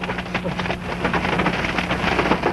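Heavy storm rain pounds steadily on a car during a tornado warning with reported funnels, a dense, continuous loud drumming with no speech over it.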